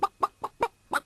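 A chicken clucking five times in a quick, fairly regular rhythm, close and clear with short gaps of quiet between the calls.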